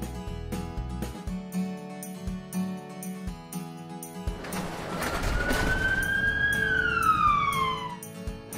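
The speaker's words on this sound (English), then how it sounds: "Ambulance." Ambulance siren in a kids' cartoon about vehicles, a wailing tone that rises and then sweeps downward over a busy music track, loud and close near the end.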